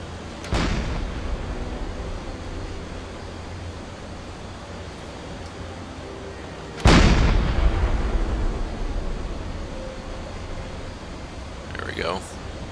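Submarine deck gun firing in Silent Hunter 4: two loud booming shots about six seconds apart, each rolling off into a long rumbling decay over steady sea and engine noise.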